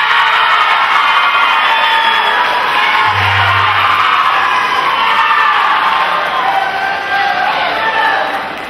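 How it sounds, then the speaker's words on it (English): A school symposium audience cheers and applauds a student performer being welcomed to the stage, a steady loud wash of crowd noise and whoops filling the whole stretch with no pause. "Please give a round of applause for Ryan Fothery."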